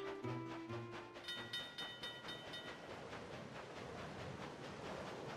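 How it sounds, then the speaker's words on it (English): A train from Zelda: Spirit Tracks rolls along with a steady rhythmic clatter, opening with tonal whistle-like notes before settling into a continuous mechanical chugging. "Hear the train"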